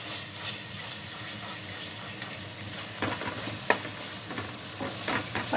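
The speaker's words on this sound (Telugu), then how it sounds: "పచ్చి వాసన పోయే వరకు ఫ్రై చేసుకోవాలి." Onions and ginger-garlic paste fry in hot oil in a pan, a steady close sizzle with occasional stirring scrapes and clinks, no voices.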